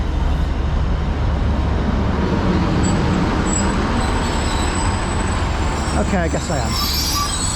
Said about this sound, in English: arriving in now, it's a 1722 northern service to Rosehill Marple. It's 150-144 on this one